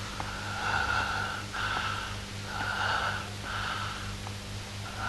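Hoarse, ragged human breathing like a dog's death rattle, four long rasping wheezy breaths in a slow rhythm, close and loud, heard alone with no talking.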